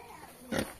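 A single short pig grunt rises about halfway through, close and moderately loud over a quiet outdoor farmyard background.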